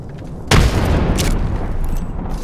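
A frag grenade goes off in Apex Legends as a sudden, loud, close blast, followed by a sustained rumbling roar that holds steady for about two seconds.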